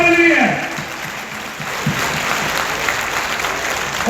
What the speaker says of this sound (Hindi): ऐसे परम पूज्य गुरु जी स्वामी जी के लिए जोरदार ताली हाथ उठाकर बताइएगा।